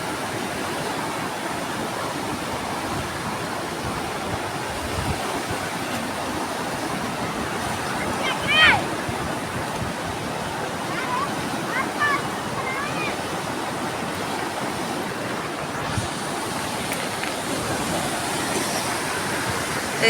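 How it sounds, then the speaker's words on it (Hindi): A river swollen after heavy rain rushes loudly and continuously nearby, a dense broadband roar with occasional faint voices mixed in. "ये देखिए दोस्त कितना नदी आया है।"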